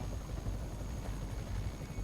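Helicopter in the Spider-Man video game, a low, steady rotor thrum with rhythmic chopping pulses holding at a constant moderate level, heard alone.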